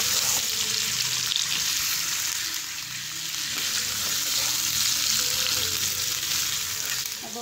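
Chicken with tomatoes frying in a pan while being stirred, a dense steady sizzle with soft scraping and shuffling movement throughout, no voices.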